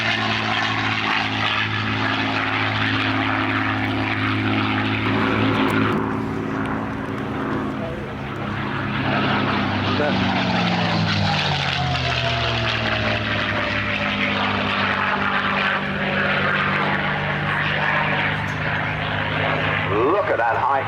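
A P-51 Mustang propeller fighter flies past at the Chailey airshow, its loud droning engine rising and falling in pitch as it passes, dips, then climbs away, with a commentator talking over the noise.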